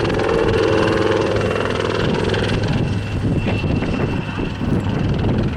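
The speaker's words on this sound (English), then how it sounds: "you can see how little sky this high-performing helicopter needs" Royal Navy Wildcat helicopter flying an airshow display at Southport, a loud steady rotor and engine roar close overhead with a commentator's voice talking beneath it.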